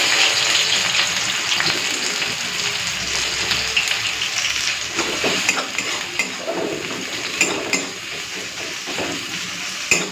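Chopped onion sizzles steadily in hot oil in a pan, with occasional clinks of a utensil stirring against the pot, close and fairly loud.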